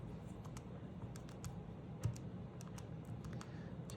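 Numbers are keyed quickly on a calculator, a string of faint, light clicks and taps at an uneven rhythm, heard alone without talk.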